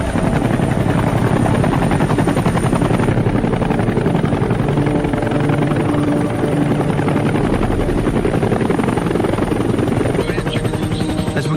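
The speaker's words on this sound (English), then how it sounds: "I head over to the chopper he points towards." A helicopter at a landing zone in the Vietnam War runs loud and close, its rotor thumping in a continuous heavy drone throughout, with no break and no clear voices over it.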